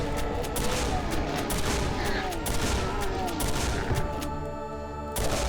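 Rapid, sustained gunfire from a video game shooter as a player fires at spider enemies, a dense near-continuous rattle of shots with bursts and impacts that keeps going until a brief drop-off at the very end.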